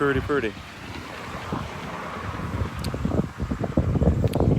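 Steady outdoor wind buffeting the microphone on a warm, 78-degree day, a constant low rumble throughout, with faint voices underneath.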